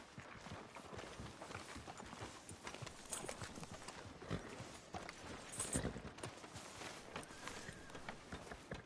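Horse hooves clip-clop steadily in Red Dead Redemption 2, a continuous rhythmic patter of game footsteps at moderate loudness with no talk over them.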